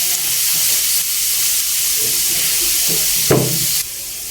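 Garlic and onion sauté in a hot pan with a constant hissing sizzle, broken by a few stirring knocks and a brief louder clatter near the end.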